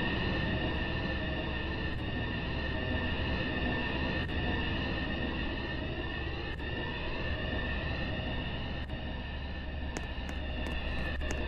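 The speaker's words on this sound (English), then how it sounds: "The train is entering the station" A metro train in a virtual metro game rumbles and whines as it rolls into a station, a loud steady low roar with tonal hum and occasional metallic clicks.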